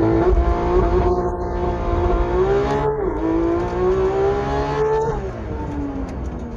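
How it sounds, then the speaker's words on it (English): Porsche 991.1 GT3 with a naturally aspirated flat-six of 476 horsepower accelerating hard from 0 to 100 km/h in cold weather, engine note climbing loud and close through rising revs with brief dips at quick gear changes. "Next, let's do a 0-100 km/h acceleration test."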